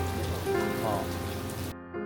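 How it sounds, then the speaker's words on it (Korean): A heavy tropical downpour at a resort in Cancún, Mexico, a dense steady hiss of rain on surfaces filling the scene before the sound drops away abruptly near the end. "폭우도 이런 폭우가 없네요."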